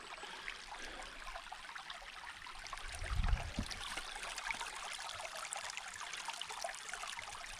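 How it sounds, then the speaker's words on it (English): A creek at a crossing on the Pinhoti Trail, Section 10, flows with a steady broadband rush and trickle close by, and a brief low thump rises near the middle. "Oh, this is the second creek crossing."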